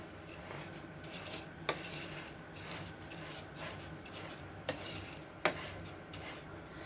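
Vermicelli dry-roasting in a pan for semiya pulao, stirred with a utensil that scrapes and taps against the metal in irregular strokes, with occasional sharper clinks over a soft rustle; no talking.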